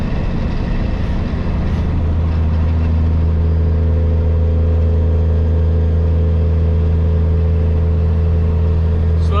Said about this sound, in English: Truck's still slowing down from coming down that hill.